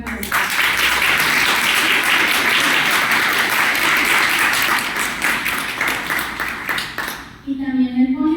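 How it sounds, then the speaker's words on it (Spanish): An audience at an academic philosophy panel applauds for a speaker, a long, loud, dense round of clapping that thins near the end before a voice begins speaking. "Un aplauso."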